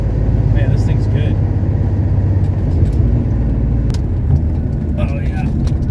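A 1970 Porsche 911T on a road test drive, a loud steady engine drone and road rumble from inside the car, with occasional light rattles and someone talking over it.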